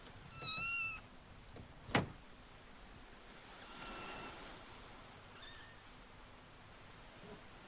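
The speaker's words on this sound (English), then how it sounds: "There was a mewing sound." A kitten shut in a boat cabin gives a thin mew at the start, followed by a sharp knock and a fainter mew later, with steady background hiss throughout.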